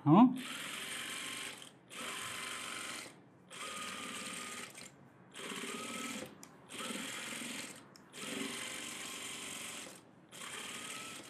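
A sewing machine runs edge stitching along a blouse lining in repeated bursts of rapid mechanical whirring, each lasting a second or two and separated by short pauses, with a brief voice heard at the very start.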